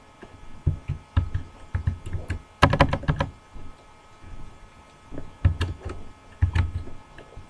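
Typing on a computer keyboard, with bursts of crisp clicks in uneven clusters, a dense rapid flurry in the middle and short pauses between, close and alone.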